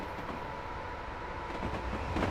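Class 87 electric locomotive in Train Simulator Classic on the West Coast Main Line near Penrith, giving a steady, continuous rolling rumble with faint rail clatter that swells slightly near the end.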